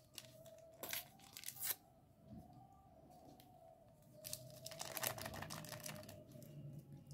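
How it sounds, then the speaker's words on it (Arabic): A vanilla sachet being torn open while mixing egg whites and sugar for a chocolate cake, with sharp papery rips in a few quick bursts and crinkling in a quiet kitchen. "وهضيف له كيس فانيليا"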